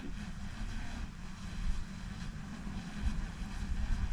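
A small drone flying about 25 to 30 meters up in strong wind, a steady distant propeller drone mixed with heavy low wind buffeting on the microphone, continuous throughout.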